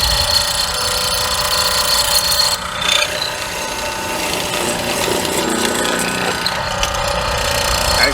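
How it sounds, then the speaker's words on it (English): A hollow chisel mortiser bores a mortise into wood, giving a loud continuous grinding, rasping drone that holds steady throughout with small surges in pitch and strain. "We're going to drill a mortise and show you what it's like if it's out."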